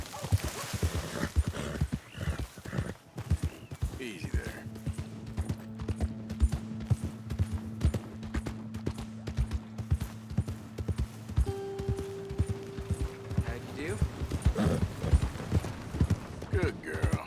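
Horse in Red Dead Redemption 2 with steady clip-clopping hooves throughout, a whinny near the start, and occasional talk over the walking rhythm.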